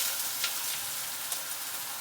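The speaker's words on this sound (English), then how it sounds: "So now I'm going to put the onions into the pan." Onions sizzle as they hit a hot frying pan, a loud, steady hiss of frying with faint stirring scrapes and no voices.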